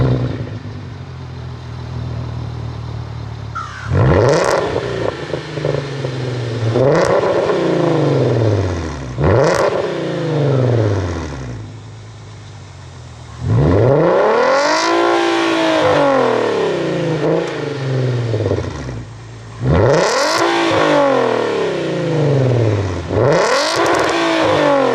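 A VW Passat with an aftermarket exhaust and DSG gearbox revs hard several times, each loud climb and fall ending in crackling exhaust pops, with short quieter idle gaps between bursts, close to the tailpipe.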